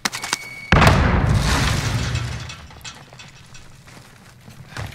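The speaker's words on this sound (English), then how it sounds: "Throwing frag grenade" A frag grenade explodes in Call of Duty: Warzone with a sudden loud boom after a few small clicks, rumbling and fading over a couple of seconds, with faint gameplay noise after.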